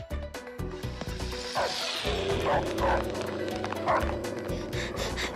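Cartoon dogs bark in several loud yips and woofs amid crashing and scuffling sound effects, with a character's voice over the commotion.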